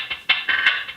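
A hi-hat loop processed with lowered EQ for a muffled, underwater effect, a short run of softened, rhythmic ticks and washes with no other sound.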